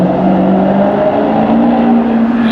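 A Maserati GranTurismo with a 4.7-litre V8 accelerates away on a London street, its deep engine note building into a steady, loud growl throughout.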